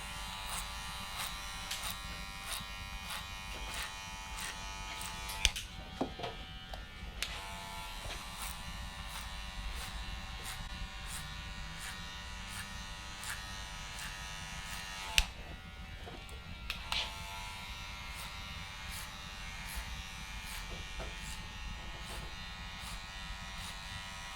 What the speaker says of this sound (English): When clipper over combing, I like to take nice small strokes, so I make sure I don't take off too much.